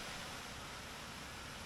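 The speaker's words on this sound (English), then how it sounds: "the water has turned on and it's warm, if not a little bit too hot to shower" Water streams steadily from the shower head of a Camplux outdoor portable water heater, a soft, even hiss with no other sounds.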